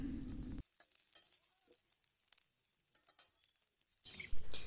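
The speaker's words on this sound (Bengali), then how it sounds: "অল্প কিছু সময় নাড়িয়ে ভেজে নেব" Chopped capsicum being stir-fried in a pan for chowmein: loud sizzling at the start and end, with quieter scattered stirring clicks and crackles in between.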